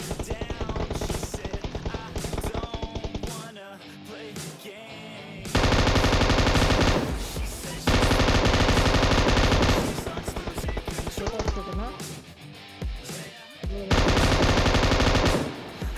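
An M249 light machine gun fires in a video game: loud, sustained automatic bursts several seconds long, broken by short pauses, with the game's background sounds between volleys and no talking.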